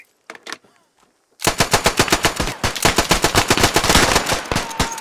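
Rapid, loud, close machine gun fire in the World War I shooter Beyond the Wire, a sustained burst of dense rhythmic shots after a few scattered earlier cracks.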